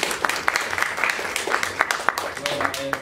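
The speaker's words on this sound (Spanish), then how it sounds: "Por favor, otra vez, aplausos." Applause for a theatre company after the play Morrongo, with scattered individual claps standing out over a steady patter, mixed with voices and a brief tone near the end.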